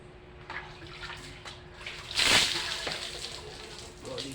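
Water sloshing and splashing during a bath, with a louder splash burst in the middle over a steady background of running water, and no one speaking.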